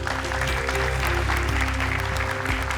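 A studio audience on an Indonesian television talk show claps in a steady, moderately loud patter, with sustained musical tones playing underneath throughout.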